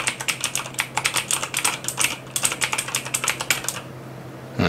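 Fast typing on a Corsair K70 LUX RGB mechanical keyboard with blue switches, a rapid run of crisp, close clicky keystrokes that pauses briefly, then resumes and stops near the end over a faint steady hum.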